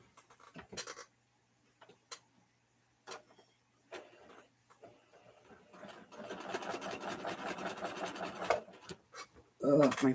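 A sewing machine stitches in short, scattered bursts at first, then in a longer continuous run of rapid, close-up mechanical ticking, with a louder clatter at the end.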